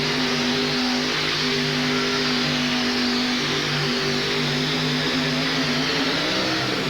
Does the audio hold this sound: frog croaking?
no